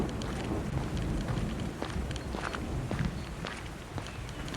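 Two people's footsteps crunch along a forest path in a steady, continuous shuffle under a wash of rustling, windy ambience, with no clear voices.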